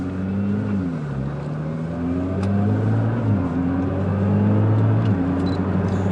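A Gaskings-tuned Nissan GTR engine accelerating hard on an open road, its loud, steady drone climbing and dipping in pitch as it revs through the gears, with no talk over it.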